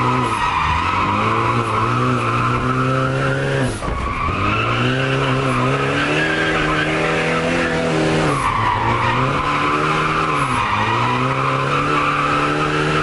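A drift car fitted with an angle kit slides with loud, sustained tire squeal over a roaring engine whose pitch rises and dips in repeated swells, close and continuous.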